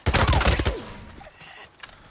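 Enemy gunfire in the Days Gone video game: a rapid volley of loud, close shots crackling for about half a second, then fading into quieter background noise with a faint later pop.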